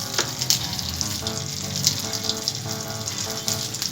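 Potatoes and whole cumin seeds frying in hot oil give a steady, close sizzle with bubbling and crackle through the whole stretch, alone with no voices.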